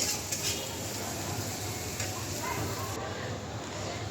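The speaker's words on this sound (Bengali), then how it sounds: "কড়াইতে দিয়ে দিয়েছি পেঁয়াজ" Onions frying in a kadai for a hilsa fish bhuna: a continuous close sizzle with light crackles and occasional faint ticks, steady throughout at moderate loudness, with some talk faintly beneath.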